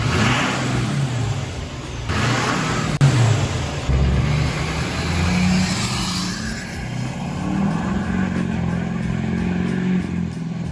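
A pickup truck's engine runs steadily with some revving after a cold air intake install and a fixed intake clamp leak, a close, loud, continuous mechanical drone filling the whole stretch without talk.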